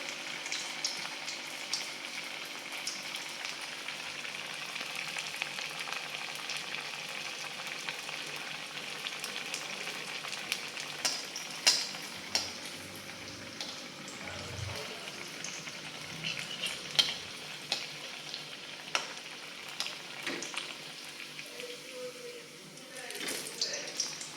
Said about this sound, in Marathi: बाकीचे वडे पण तळून घेत आहे मध्यम आचेवरच